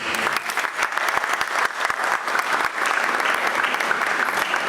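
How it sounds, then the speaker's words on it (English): Audience applause at a school anniversary debate event, dense steady clapping from a crowd lasting throughout, fairly loud and continuous. "Let's give a round of applause."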